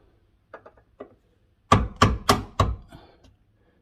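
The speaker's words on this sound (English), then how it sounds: "I'm going to see if I can get it out with this piece of this chisel here" Sharp metallic hammer strikes on a chisel driving out a Jeep XJ door hinge pin: a few light taps, then four loud, evenly spaced blows close by, with no talk.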